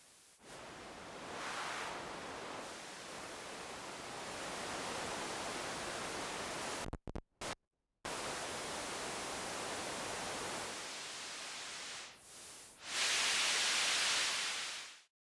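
Hissing broadband noise from preamp feedback on a no-input mixing board swells and shifts in tone, cuts out briefly in the middle, then returns brighter and harsher near the end, with no talking.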